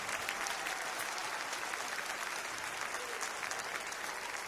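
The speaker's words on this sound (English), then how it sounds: "Give the Lord a hand clap of praise." A church congregation claps in praise, a dense, steady wash of applause that holds evenly for several seconds at a moderate distance, with no voices on top.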